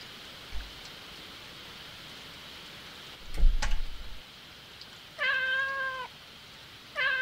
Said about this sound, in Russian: А кошка залезла в шкаф?